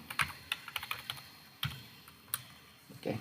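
Quick bursts of keyboard typing, a handful of crisp key clicks in uneven clusters with short pauses between, close and fairly quiet.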